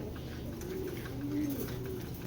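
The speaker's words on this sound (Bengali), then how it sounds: "খুব সুন্দর বিগ সাইজের কবুতরগুলা" Big Giribaj pigeons coo quietly nearby, a soft, low, rolling murmur that repeats over a faint background hum.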